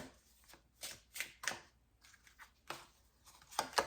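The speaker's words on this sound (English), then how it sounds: "Then I'm going to take 6 of these tarot cards to do our second layer." Tarot cards being handled and laid out one by one, giving a series of crisp papery swishes and flicks with short pauses between, close up and fairly quiet, with no talking.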